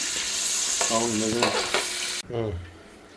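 Paneer cubes sizzle steadily in a hot pan, a loud continuous hiss broken by a few scraping stirs and a brief pause near the end before the frying noise resumes more softly.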